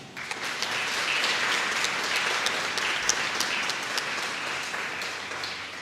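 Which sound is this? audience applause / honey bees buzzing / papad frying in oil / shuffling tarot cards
audience applause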